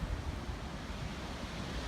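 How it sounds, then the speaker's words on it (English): Strong gusty outdoor wind of about 18 to 26 mph at an RC flying field roars and buffets the microphone as a continuous, loud, rumbling rush with no talking. "I don't know if you can hear that in the microphone, but man, it is breezy."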